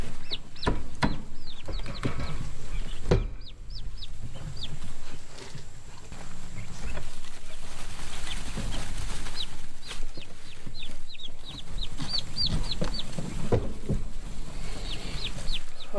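Young turkeys in a brooder chirp in high, repeated peeps throughout, with shuffling and scratching in wood shavings underneath and occasional knocks.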